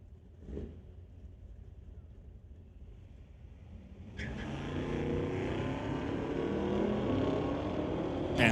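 A 2018 Camaro and a 1970 Plymouth launch in a street-legal drag race at Mission Raceway Park: a quiet wait, then engines roar up abruptly into a loud, sustained rising howl.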